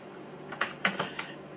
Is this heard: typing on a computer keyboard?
yes